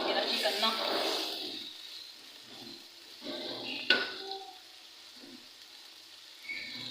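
Ingredients frying in a kadhai, a steady hiss and sizzle with occasional metallic clinks of a spoon against the pan, fairly close and continuous throughout.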